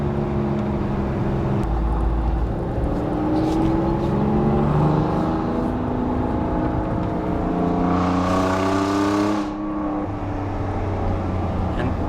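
Alfa Romeo Giulia Quadrifoglio with a broken exhaust and aftermarket downpipes, revving to about 4,000 RPM in second gear: a loud, continuous engine drone whose harmonics climb and fall steadily throughout.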